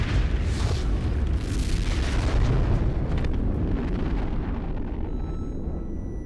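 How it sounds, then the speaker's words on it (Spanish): The 1955 Apple II nuclear test detonation sounds as a massive rolling boom, loud and sustained, with a deep rumbling roar that slowly fades over several seconds and no voices. "Sobrevivió a una detonación conocida como Apple II"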